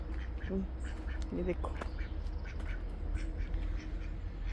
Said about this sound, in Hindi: डक्स और मुर्गियों का दड़बा।